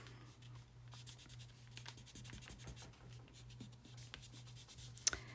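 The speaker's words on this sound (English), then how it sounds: "So I'm going to erase all my grid lines" Pencil grid lines being erased from watercolor paper with an eraser, a soft steady rubbing and scratching close up, continuous with a low hum underneath and a small knock near the end.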